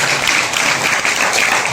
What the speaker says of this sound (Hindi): खुदा के लिए जोरदार ताली बजाएं